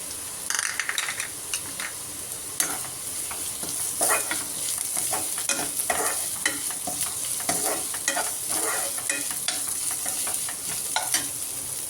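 A spoon stirs grated coconut into chickpea adai batter in a pan, giving steady scraping and clicking strokes over a soft continuous sizzle, close up and without speech.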